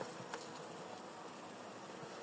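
A dense, continuous buzz of many honeybees at a hive fills the air up close, a steady droning hum without pauses or voices.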